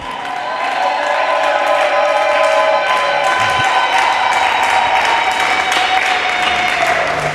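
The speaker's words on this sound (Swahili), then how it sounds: "Piga vigelegele ya bien" A church congregation cheers loudly, a dense, sustained roar of high-pitched ululation and voices filling the space without a break.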